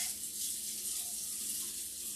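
Water from a tap runs steadily as a pan is rinsed in a kitchen sink, a soft, even hiss without talk.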